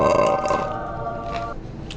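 A single close belch, voiced and buzzy at first, then thinning into a longer fading tail, alone without talk.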